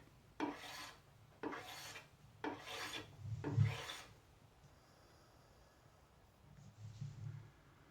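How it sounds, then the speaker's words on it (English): Four long rasping strokes of a hand plane across wood, evenly spaced, followed by a quieter, thinner card scraper pass near the end. "Just plane it and card scrape."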